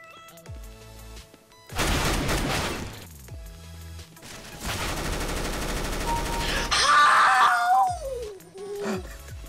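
Two rapid bursts of MAC-10 submachine gun fire on the Shipment map in CS:GO, each sustained and loud, with a sharper clattering burst and falling tones near the end.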